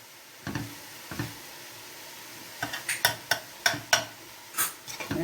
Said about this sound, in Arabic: نقلبهم كده مع البصل مع اللحمه